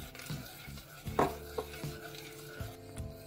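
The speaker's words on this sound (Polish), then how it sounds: "Następnie zawartość szklanki wlewam do garnka i mieszając jeszcze zagotowuję." A spoon stirs fruit filling in a pot as it comes to a boil, with soft scraping, a few light clinks against the pot and a faint bubbling simmer, quiet and close.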